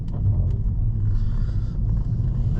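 An E85-fueled VW Golf engine rumbles low and steady through gear changes, heard from inside the car with faint knocks and some wind, moderately loud, with no talk.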